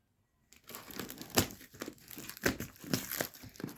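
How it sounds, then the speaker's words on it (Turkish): Cardboard parcel of books being torn open, close crinkling and ripping of paper packing in irregular bursts after a brief silence, no voices. "kargomuz böyle geldi. Hemen açalım. Evet, açıyorum."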